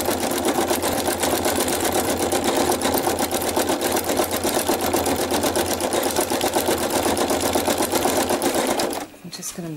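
A sewing machine runs at a steady, rapid stitching pace through fabric, loud and continuous, with a voice partly audible underneath, then cuts off near the end, leaving brief handling noise.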